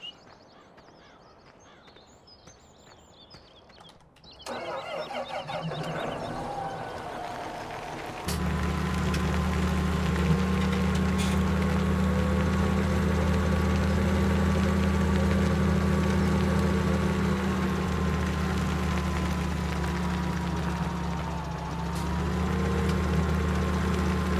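A tractor engine idles in Farming Simulator 17, starting quietly, then rising to a loud, steady low drone with a faint whining tone above it that dips briefly near the end.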